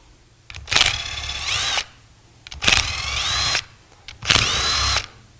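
A power tool loosening bolts on a manual transmission, sounding as three separate whirring bursts of about one second each, loud and close, with short pauses between and no talking.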